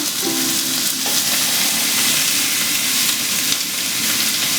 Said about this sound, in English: So listen to that sizzle.